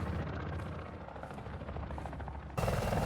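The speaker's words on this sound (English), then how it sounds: "In Modern Warfare 2, when helicopters enter the battlefield, the speed at which the propellers spin on the helicopters looks normal." Helicopter rotors thrum steadily in a Call of Duty Modern Warfare 2 battlefield, a continuous dense chopping drone with a fuller, louder rotor wash at the very end.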